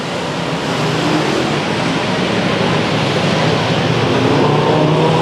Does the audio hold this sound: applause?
no